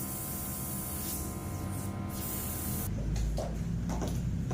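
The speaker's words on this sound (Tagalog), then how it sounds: "Lagay tayo ng setting spray." Makeup setting spray misted onto a face using an airbrush, a continuous close hiss with a shift in tone partway through and brief bursts of spray near the end.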